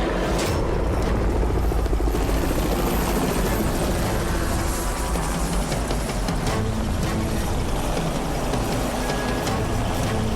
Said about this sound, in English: That's the sound of a Jet Ranger helicopter,